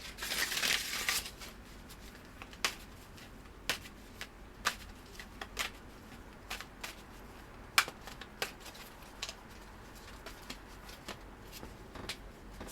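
Tarot cards being shuffled and handled, a burst of riffling at the start followed by scattered sharp card snaps and flicks at irregular intervals, close and fairly quiet with no voice.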